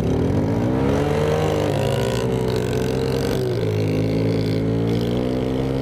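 A Yamaha Moto 4 80cc ATV engine revs hard and accelerates, a loud continuous buzzing drone whose pitch climbs and dips with the throttle, close by and alone.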